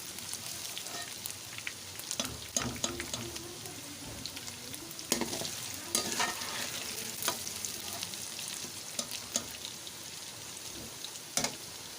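Pieces of taro root (arbi) frying in a pan for a chicken curry, a steady close sizzle with crackling pops and occasional stirring scrapes, no voices.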